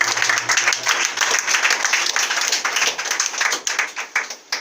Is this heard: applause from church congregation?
yes